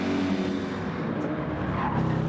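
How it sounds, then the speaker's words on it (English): A GT3 race car drifts through a corner at Bathurst in a racing video game, its engine roaring steadily with tyre squeal layered over the loud, continuous drone. "Oh, a little bit of a drift on the way through there for Ricky."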